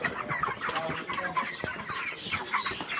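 Chickens cluck and squawk in a busy farmyard, several birds calling over one another in short, overlapping bursts at close range, with a continuous chatter that never settles.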